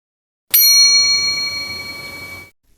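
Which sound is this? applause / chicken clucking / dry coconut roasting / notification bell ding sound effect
notification bell ding sound effect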